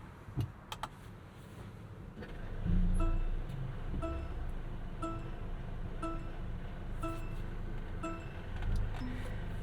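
A 2024 Mercedes CLA 35 AMG coupe with a 48-volt mild hybrid system starts up quietly without a starter crank, its engine rising into a steady, fairly loud idle hum accompanied by repeated electronic chimes inside the cabin.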